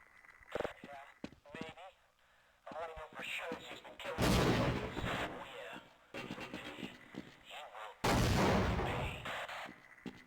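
Sniper rifle fire in Half-Life on PS2: two heavy, sharp blasts with ringing tails stand out loud and close among stretches of talking and game chatter.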